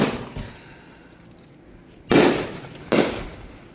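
Big fireworks show shells burst outdoors, two loud booming blasts with long rumbling decay after a softer early pop, heard close with no talking over them.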